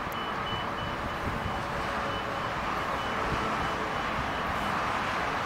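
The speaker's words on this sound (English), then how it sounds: "I can't do anything about the road noise." Road traffic near an Erie Canal guard lock, a continuous broad rumble and hiss of passing vehicles, steady and moderately distant with no talking.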